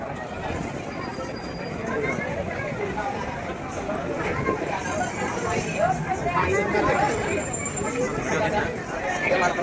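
A large Sunday crowd of devotees chatters at a temple in Kolhapur, a loud, dense babble of many voices that stays steady and swells slightly toward the end.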